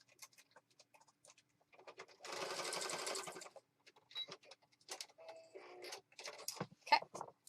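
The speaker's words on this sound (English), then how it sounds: "I'm going to zip over here to the sewing machine and sew." A sewing machine whirs in one short, steady burst of rapid stitching, surrounded by quiet clicks and handling sounds.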